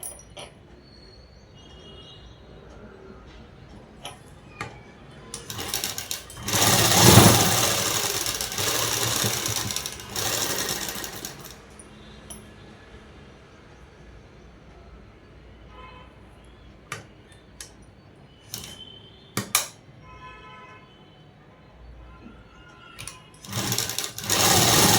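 A sewing machine stitches the shoulder seam of a collar-neck blouse in a few bursts, one longer run of several seconds near the start and shorter whirring spurts with clicks later, heard close up and alone.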